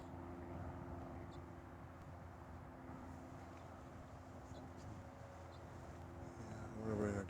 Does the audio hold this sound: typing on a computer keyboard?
no